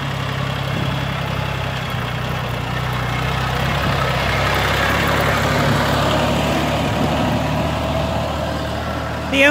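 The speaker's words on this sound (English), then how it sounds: "The only equipment that we have got is the tractor and the harrow" A tractor pulling a harrow across a sand paddock to level an equestrian arena surface, its engine giving a steady, close, fairly loud drone throughout with no voices.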